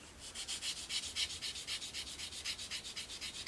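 Medium-grit sandpaper rubs quickly back and forth over the rounded surface of a scale model, making a soft, rhythmic scratching of many short, even strokes, close and quiet.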